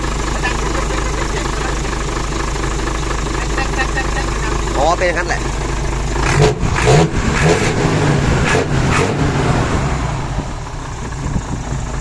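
A large Hino Mega 500 truck diesel engine idles steadily after a valve adjustment, with a low rumbling knock throughout, while someone speaks briefly over it.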